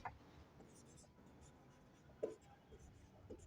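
Handwriting during a divisibility-rule maths lesson, faint scratchy pen or chalk strokes close by, with soft murmured speech at a very low level.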